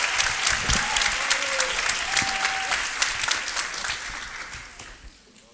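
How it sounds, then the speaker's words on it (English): Graduation ceremony audience applauds a student speaker, a full crowd clapping briskly with a few sharp near claps, gradually tapering off toward the end. "give a huge applause to our student Mariam Kamel"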